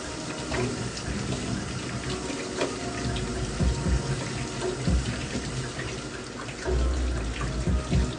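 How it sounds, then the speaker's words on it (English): Hands washed under a running kitchen tap, a continuous hiss of flowing water broken by uneven splashes and knocks as hands move through the stream, fairly close, with background music. "So let me wash my hands real quick"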